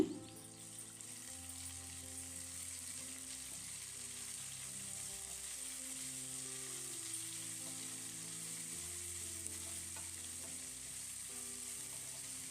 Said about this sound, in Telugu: పొడుగ్గా కట్ చేసిన ఎర్రగడ్డలు వేసుకోవాలి అలాగే రెండు రెమ్మల కరివేపాకు చిల్లీ ఫ్లెక్స్ వేసుకుని ఫ్రై చేసుకోవాలి